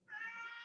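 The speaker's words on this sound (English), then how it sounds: "Sorry, that's my cat." A house cat lets out a single sustained meow, faint and slightly distant, with nothing else over it.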